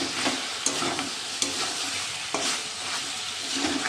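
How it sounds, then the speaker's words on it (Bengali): Ridge gourd pieces stir-fried in a pan, a steady close sizzle with a few sharp scrapes of a spatula against the metal at irregular intervals, no voices. "এরপর আমি কষিয়ে নেব।"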